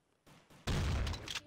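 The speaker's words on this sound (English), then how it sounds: "There's like a guy trying to shoot me." Gunfire in a Roblox game, a couple of faint thuds followed by a loud, dense burst of shots that fills the last second.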